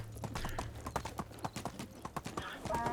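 Rapid clip-clop of a donkey's hooves galloping in the Medieval Dynasty video game, a quick uneven run of close, loud hoofbeats with a faint voice now and then underneath.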